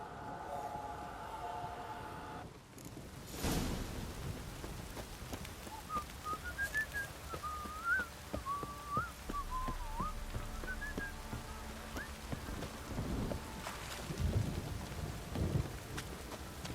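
In The Witcher 3 video game, steady rain patters while a sharp thunderclap cracks and rolls away, with a thin whistling tone and a second rumble later in the storm.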